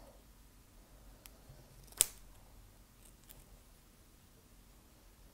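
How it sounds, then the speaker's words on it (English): Scissors cutting the center cords of a wide double cobra paracord bracelet, one sharp close snip standing out against a quiet room with a couple of faint clicks around it. "next you're going to cut the center cords right about at where your braiding stops."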